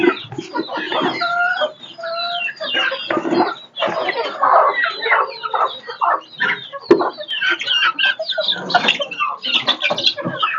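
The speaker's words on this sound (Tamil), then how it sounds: "ரெண்டு மாதம் முடிஞ்ச கோழி" Two-month-old country chickens cluck and squawk close by on a small poultry farm, overlapping calls in irregular bursts with an occasional crow-like cry.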